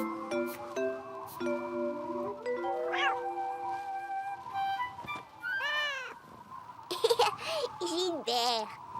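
A cartoon cat meows during a thunderstorm in a children's cartoon, with a string of rising and falling meows and caterwauls over background music and chimes, and childlike voices alongside.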